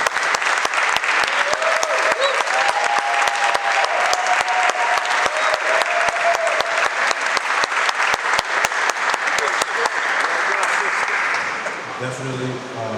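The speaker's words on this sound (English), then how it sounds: "You guys all deserve another round of applause." A crowd gives loud, sustained applause for 2024 New Utrecht football Hall of Fame inductees, dense clapping running strongly for about ten seconds before thinning out at the end.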